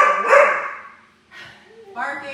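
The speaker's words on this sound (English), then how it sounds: "Barking, growling," A pit bull barks and growls in loud, harsh bursts, with a sustained snarl at the start, a brief lull, then more barking.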